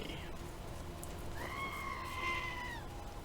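A screaming goat in the video game Wasteland 2 lets out one long, strained, wavering cry over a steady background hum of game ambience.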